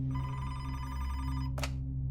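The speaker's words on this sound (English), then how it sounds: "after Timmery had left the police station, the phone in the police station rang" A telephone ringing in a police station, one steady electronic ring tone that cuts off sharply, followed by a brief click, heard alone.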